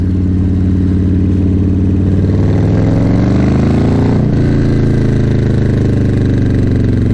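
Loud vehicle engine running through an exhaust with its turnout pointed downward: a deep, throaty, continuous rumble close by, with a brief rise and fall in pitch midway, and no talking.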